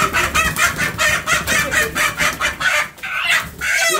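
Chickens at a farmstead clucking repeatedly in a dense, continuous run of calls, close and fairly loud, with no talking.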